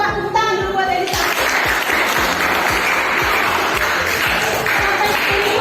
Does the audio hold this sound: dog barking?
no